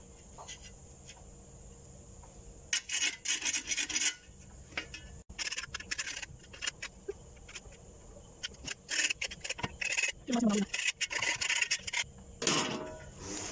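Rusty metal being scraped to remove flaking rust, a harsh rasping that comes in repeated bursts of strokes with short pauses between them, close and fairly loud.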